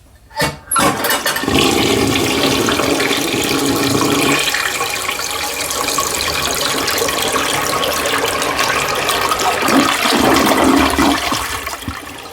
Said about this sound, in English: I have an old 1950s standard toilet, and I will let you guys watch how it flushes.